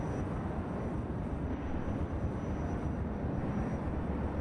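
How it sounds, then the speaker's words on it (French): A Valkyrie helicopter flies in the video game Planetside 2, giving a steady, loud, unbroken rotor and engine drone for the whole stretch. "C'est l'hélicoptère du jeu, quoi, en fait."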